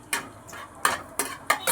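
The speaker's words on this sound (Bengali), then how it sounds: "শুকনো লঙ্কাটাকে একটু নাড়াচাড়া করে নিলাম" Dried red chillies stirred in a metal pan with a spatula, sharp scraping clatters recurring every few tenths of a second, close and loud with a faint sizzle beneath.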